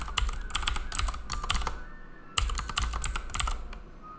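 Rapid typing on a computer keyboard while writing Python code, dense bursts of key clicks with a brief pause midway before the clatter resumes, close and clear.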